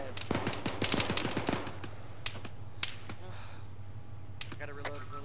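Automatic rifle fire at a vehicle during a military video game operation: a rapid burst of rattling shots in the first second and a half, then scattered single cracks over a low steady hum.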